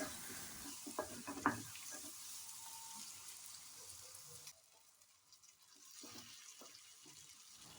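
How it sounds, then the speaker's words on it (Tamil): Onions and coconut pieces being sautéed in a pan for Kerala-style nadan chicken curry, giving a steady sizzle with scraping stirs that drops away abruptly midway, then resumes more faintly. "அதோடு சேர்த்து தேங்காவையும் போட்டுட்டு நம்ம நல்லா வதக்கி எடுத்துக்கலாம்"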